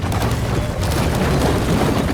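Continuous loud rumbling battle noise with booming cannon and artillery shell fire in World of Tanks, a T110E5 tank battle, dense and unbroken throughout.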